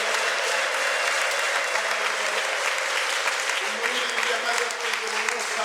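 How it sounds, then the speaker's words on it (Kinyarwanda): A church congregation at a thanksgiving gathering applauds God, dense and continuous loud clapping from many people that stays steady for several seconds, with voices mixed in. "umpere Imana amashyi."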